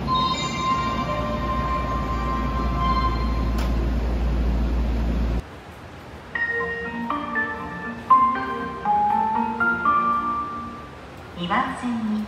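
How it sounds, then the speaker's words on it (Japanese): On a Kobe Municipal Subway platform at Shin-Nagata, a train's loud low rumble gives way to a chiming departure melody of bright bell-like tones, with a platform announcement voice over it. "1番線の電車が発車します。"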